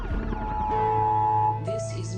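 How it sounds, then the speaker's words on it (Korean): A short burst of police siren wailing with sweeping pitch in a film, fairly loud, followed by a higher electronic siren pattern near the end. "바깥엔 분주한 경찰 사이렌 소리만이 들리죠"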